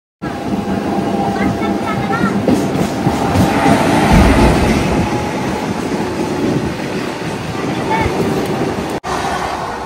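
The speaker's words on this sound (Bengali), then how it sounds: "এই দেখুন ট্রেনটা এখান থেকে কিন্তু ডাইভারশন হচ্ছে" A new Howrah to Digha local train running, with a loud, steady rumble and rattle of carriages, wind buffeting and some faint clickety-clack heard from on board, with voices faintly in the background.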